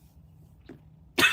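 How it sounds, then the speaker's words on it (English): A woman gives one short, sharp cough at the end of a quiet stretch of room hum. "now I'm coughing"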